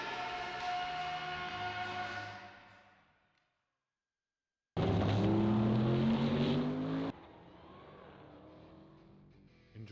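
A drag racing car engine roars loud and close, fading to silence, then bursting back at full force with rising pitch before settling into a lower, steadier rumble.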